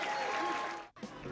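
Crowd applause at a women's intercollegiate team bowling championship at the Cherry Bowl in Rockford, Illinois, a dense steady clapping that thins into a brief dip near the end before picking back up.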